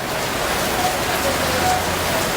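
Steady rain falls as a continuous broadband hiss, fairly loud and unbroken throughout, with no clear voices over it.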